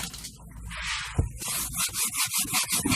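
Aluminium rear window trim from an AC Cobra rebuild is rubbed down with a little thin light oil, giving a close, steady back-and-forth scrubbing with rhythmic strokes that grow quicker toward the end.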